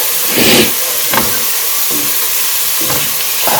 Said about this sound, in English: I'm just going to let the onions cook down until they're nice and tender